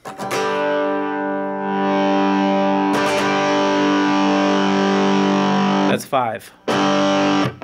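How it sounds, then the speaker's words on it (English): Guitar through a budget amp as the gain is turned up, a sustained distorted chord ringing thick and loud with reverb, restruck once midway and choked near the end; someone speaks briefly at the close. "Now watch as I start bringing the gain in."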